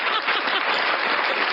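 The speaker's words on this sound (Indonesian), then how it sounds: "Iya, tepuk tangan dong." A dense, even wash of hand clapping runs without a break, a steady burst of applause at moderate loudness with no voices clearly heard.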